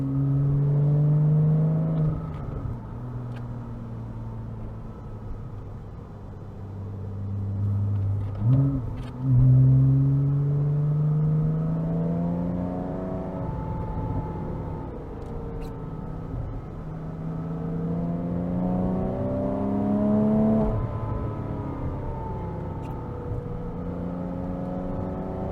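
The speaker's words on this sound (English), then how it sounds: "This car sounds very, very good with this exhaust." A 2007 Porsche Cayman S with a six-speed manual and aftermarket exhaust, driven hard in the rain, engine note rising and falling through repeated revs and gear changes, a steady droning exhaust rumble heard from inside the car.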